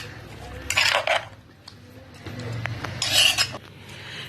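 Ground cucumber chutney scraped from a stone grinder into a bowl, with two bursts of metal utensils clinking and scraping close by, separated by quieter handling noises.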